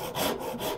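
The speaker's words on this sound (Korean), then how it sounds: "톱질을 다 완성을 해 볼게요." A hand saw cuts through wood to finish a hidden dovetail joint in traditional joinery, with steady rasping back-and-forth strokes, three or so pushes close up and loud, no talking.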